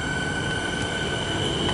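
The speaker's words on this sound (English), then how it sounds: "And the train's now departing." A Melbourne suburban train pulls away from Yarraman station with a continuous rolling rumble and a thin, high electric whine, close by and steady throughout.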